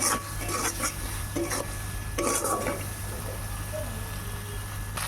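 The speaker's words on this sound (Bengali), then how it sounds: "এবারে এই মশলাটা একটু কষাতে থাকবো যতটা না সময় তেলটা ছাড়ে।" A few brisk scraping stirs in a pan early on, then a soft steady sizzle and hiss of spices frying in oil, with no voices.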